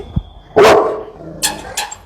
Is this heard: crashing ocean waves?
no